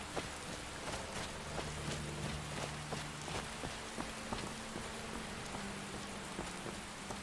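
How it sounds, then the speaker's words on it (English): Rain pours steadily in the Skyrim video game, a constant hiss of drops with scattered sharper patters on surfaces, fairly quiet and with no talking. "we're gonna start getting pretty cold in this rain"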